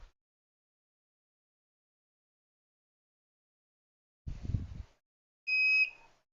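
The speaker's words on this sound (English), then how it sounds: "So, we'll have the alarm on that." Aquarium overflow alarm, a short electronic beep with a steady tone heard once, close and clear after a brief thud, with silence between.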